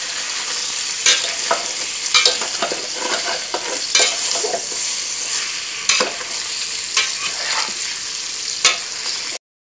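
Sliced hard pork fat frying in a pan to render lard and cracklings, a steady loud sizzle with repeated scraping stirs of a utensil against the pan at irregular intervals, no talking.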